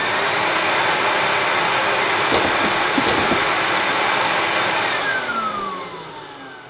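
A workshop dust collector roaring steadily with its sander blast gate shut and the pressure relief valve open. The loud, broad airy rush holds for several seconds, a few faint knocks sound partway through, and the noise eases off toward the end.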